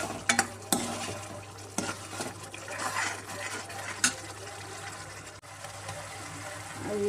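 Spices for a tadka sizzle and crackle steadily in a hot pan while a spoon stirs and scrapes, with a few sharp clinks of metal against the pan.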